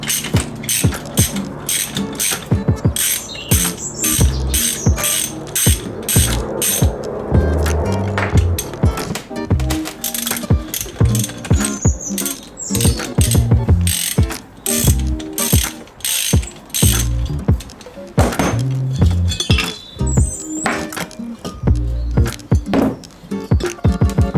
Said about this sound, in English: I'm going to remove these bolts on the top here, or the bottom.